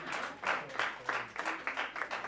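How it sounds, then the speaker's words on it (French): A church congregation claps for Esther during a praise and testimony night, a steady, moderately loud patter of many hands that surges in repeated waves across the whole moment, with no clear voices standing out. "On applaudit Esther."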